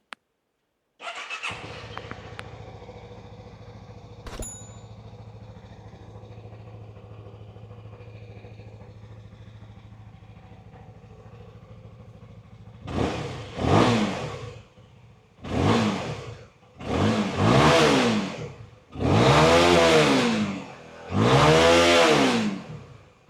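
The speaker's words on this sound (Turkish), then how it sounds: "Şimdi motorumuzu bir çalıştıracağız. Evet yağımızı koyduk ilk marşımıza basalım." A CF-Moto 250 motorcycle starts right after an oil and filter change and settles into a steady idle. Then five strong throttle blips rise and fall in quick succession, loud and close with no talking.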